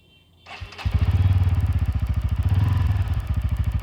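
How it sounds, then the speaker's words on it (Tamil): A Bajaj Pulsar N160 motorcycle engine cranks and catches, then settles into a close, steady, loud idle with an even pulsing exhaust beat. "அடுத்து வண்டியை ஸ்டார்ட் பண்ணி பார்ப்போம்"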